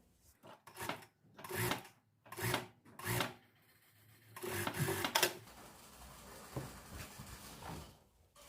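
Sewing machine stitching a folded seam on a raglan-sleeve coat, several short whirring runs of a few seconds each separated by pauses, then a longer softer run with rustling fabric, close and moderate, no talk.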